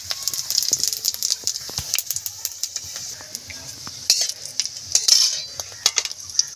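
Five-spice and dried chillies tempering in hot oil in a kadai over a wood-fired stove, with faint sizzling under repeated metal clinks and scraping of a utensil, a voice speaking briefly.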